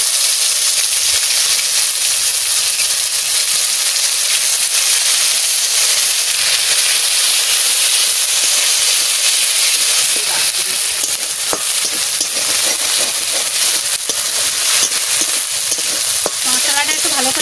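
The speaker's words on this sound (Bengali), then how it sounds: "মশলাটা আমি তেলের পরে দিয়ে দিচ্ছি।" Spices, cumin seeds and two bay leaves, fry in hot oil, making a loud, continuous close hiss and sizzle with faint stirring clinks breaking through near the end.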